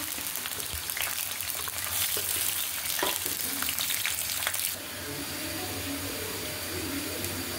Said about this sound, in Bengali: এখানে হচ্ছে আমার পেঁয়াজ রসুন এগুলো সব ভাজা হয়ে গেছে।